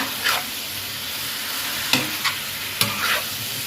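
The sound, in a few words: stir-frying king oyster mushrooms in a pan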